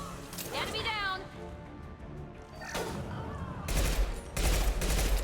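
Gunfire in the Mass Effect video game, a few loud bursts of shots and crashes near the middle and end, with someone talking throughout.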